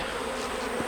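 Bees hum in a steady, close buzz around a backyard hive, a dense continuous drone with no voices over it.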